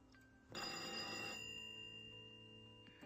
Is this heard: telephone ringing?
yes